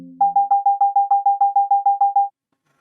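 ATOP air traffic control simulator software sounds a warning alert: a steady train of about thirteen identical short, clean electronic beeps in quick even rhythm, standing alone after a brief low hum.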